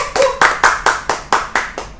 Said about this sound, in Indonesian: Wih, tepuk dulu.